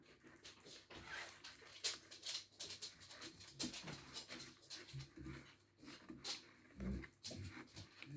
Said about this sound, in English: That weird noise is my dog, he's just coming down to see me.